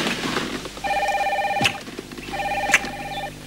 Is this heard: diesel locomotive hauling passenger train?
no